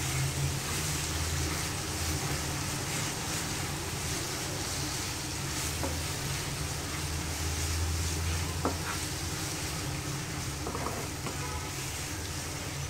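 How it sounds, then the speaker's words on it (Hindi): Garlic frying in hot oil over a low flame for a Szechuan chutney, a steady broadband sizzle with faint stirring clinks, continuous and close throughout. "तेल मैंने गरम कर दिया है, फ्लेम स्लो कर दिया है। इसमें डाल दिया है मैंने लहसुन को, थोड़ा भून लेना है।"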